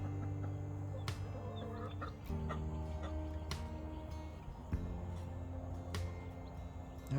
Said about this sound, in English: Our other baby chicks,